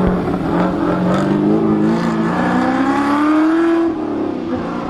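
A Ford Falcon Cobra muscle car engine drones steadily and loudly on a wet road, its pitch climbing gradually under the throttle before dropping back slightly near the end.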